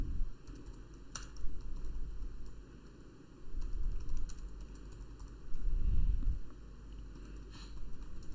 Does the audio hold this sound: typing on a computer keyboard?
yes